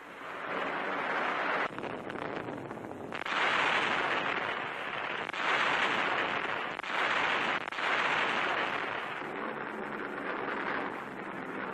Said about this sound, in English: the great Axis rail yards from which troops and supplies are poured into southern Italy are blasted by overwhelming Allied air power